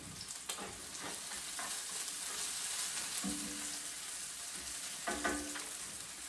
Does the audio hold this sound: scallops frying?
yes